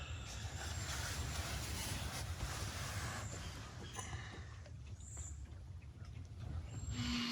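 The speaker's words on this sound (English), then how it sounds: "that noise you hear, it's the barge down here." Barge working on a river below a foggy morning campsite, a steady low rumble of engine and water noise, continuous and moderately distant, with no voices.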